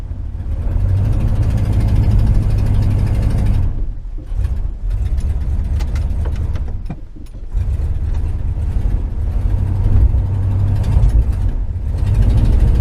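A 1984 Dodge Ram D150 pickup idles in first gear, a loud, steady low rumble close by that dips briefly in the middle before settling back to an even drone.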